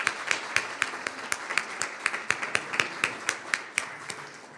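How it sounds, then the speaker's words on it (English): Audience at a board meeting claps in a sparse, distinct round, individual hand claps spiking irregularly across the clip at moderate volume, with no talking. "Let's give her a round of applause."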